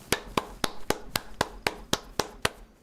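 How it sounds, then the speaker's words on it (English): DayZ character's clapping emote, ten crisp claps at a steady, even rhythm, close and alone with no talking. "Yeah, wait, I don't know how to clap."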